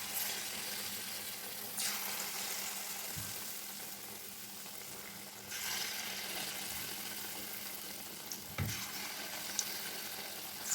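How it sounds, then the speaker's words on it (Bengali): Palm fruit fritters (taler bora) start frying in oil, a soft, steady sizzle that stays fairly quiet, with a few faint clinks and no speech. "এবার ভাজা শুরু হলো আস্তে আস্তে"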